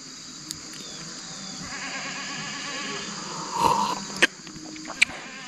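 Sheep from a flock of about 300 grazing in a forest, with one clear bleat midway over a soft outdoor hum of insects, plus a couple of sharp clicks near the end.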